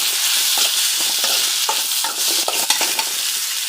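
Chopped tomatoes sauté in a pan with garlic, ginger and dried red chillies, a loud continuous sizzle broken by scraping stirs and small spatters, with no voices.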